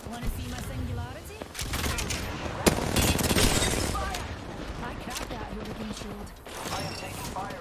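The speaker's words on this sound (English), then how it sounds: "I am taking fire, friends. Opening fire on the enemy." Gunfire from a video game firefight comes as dense, overlapping bursts of rapid shots and impacts, loud and continuous, with talk under the shooting.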